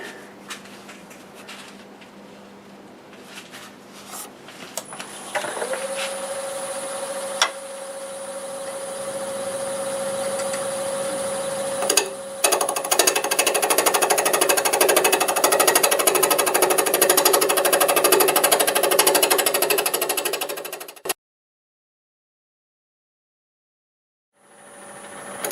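Wood lathe spinning a multi-axis turning while a tool cuts the wood, a steady motor hum with a high whine and rising buzzing scrape that cuts off abruptly before silence.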